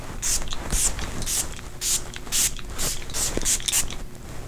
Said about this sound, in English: So I'm going to use my Catrice Illuminating Prime and Fine Dewy Spray.